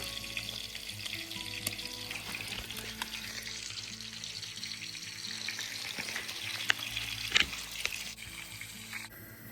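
Burger patties sizzle and fry steadily in a pan at a campsite, a continuous crackling hiss with occasional scrapes and clinks, close and alone without talk.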